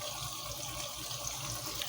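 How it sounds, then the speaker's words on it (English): Cold water runs steadily from a household tap into a sink, a continuous close hiss and splash with no pauses, during a rash guard washing routine. "put the water to the coldest it can get. So your faucet is cold as it can get"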